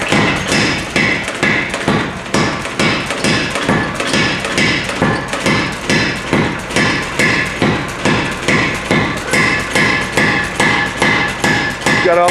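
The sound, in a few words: power hammer pounding Damascus steel billet into a blade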